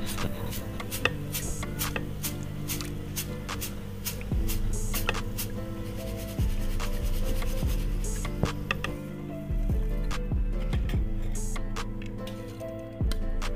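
Crispy fried chana dal being lifted out of hot oil for nimko, giving rapid dry ticking clicks and crackles that repeat steadily and sit close over a low background hum.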